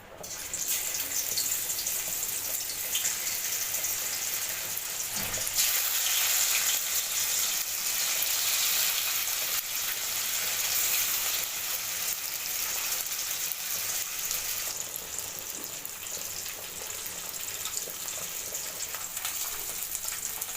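Ilisi fish frying in hot oil gives a constant, even sizzle and crackle, close up and moderately quiet, with a brief soft bump early on.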